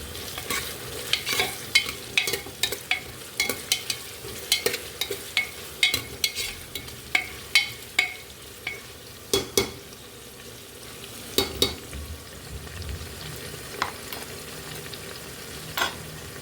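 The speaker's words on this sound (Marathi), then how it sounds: "कुकरमध्ये 2 मोठाले कांदे टाकलेले आहे. हे कांदे थोडे लालसर होऊ द्यायचे." Two large onions fry in a pressure cooker, a soft continuous sizzle broken by regular scraping clicks of a spoon stirring against the metal, close and alone without talk.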